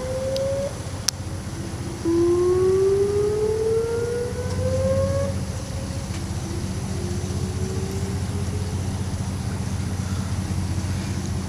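A Whelen WPS-2909 outdoor warning siren sounds during a test in La Porte, Texas, after a repair. Its loud rising and falling wail sweeps over wind noise, and other sirens sound faintly in the distance.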